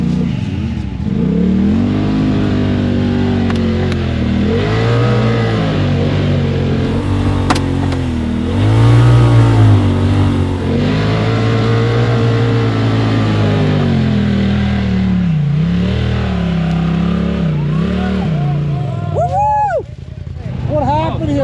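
A side-by-side UTV, such as a Can-Am Maverick X3 or Polaris, revs hard while trying to climb a hill, its engine droning and surging continuously up and down, loud and close, with people talking over it.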